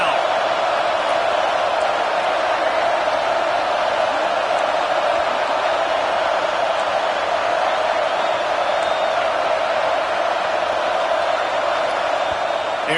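Home crowd at a Georgia–South Carolina college football game roaring on third down, a loud, continuous stadium din of cheering and whooping from a distant mass of fans, with a commentator's voice faint beneath it.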